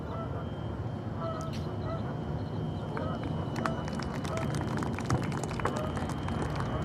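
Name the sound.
seagulls calling by the shore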